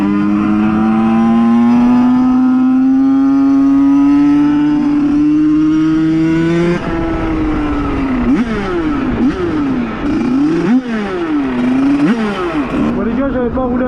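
A 50cc motorcycle engine, loud and close, held at a rising high-revving drone and then blipped repeatedly so the pitch swings up and down in quick revs.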